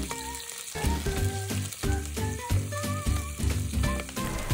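Choy sum is stir-fried with garlic in hot oil in a wok, giving a steady sizzle under repeated tonal clanks and scrapes from stirring, with a faint high whine running throughout.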